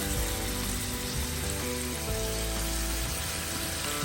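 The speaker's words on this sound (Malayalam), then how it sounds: "ഒരു പാൻ എടുത്ത് അതിലേക്ക് കുറച്ച് ഓയിൽ ഒഴിച്ച് കൊടുത്ത് നമുക്ക് ഈ ചിക്കൻ മാരിനേറ്റ് ചെയ്ത് വെച്ച ചിക്കൻ നന്നായിട്ടൊന്ന് ഫ്രൈ ചെയ്തെടുക്കാം" Marinated chicken fries in oil in a pan for chicken tikka, giving a steady, dense sizzle and crackle that runs unbroken from start to finish, with a low hum underneath.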